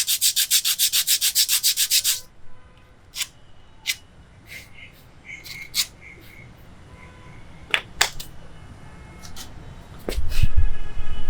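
A brake part from a 2016 Swift Dzire diesel car is scrubbed clean during servicing, starting with a fast, rhythmic rasping burst, then scattered scrapes and clicks and a louder rubbing run at the end, close, with no talking.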